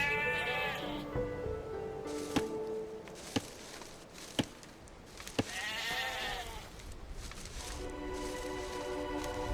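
Sheep bleat repeatedly in the Age of Empires 2 Definitive Edition video game, several wavering calls spread across the clip, alongside sharp chopping clicks and a narrating voice at times.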